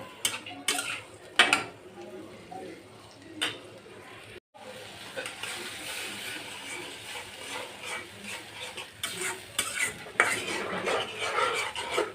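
A utensil stirs tomatoes into a Bengali tengra fish curry with vegetable stems and potatoes in a pan, scraping and clinking against the metal in irregular bursts, with some quieter pauses between strokes.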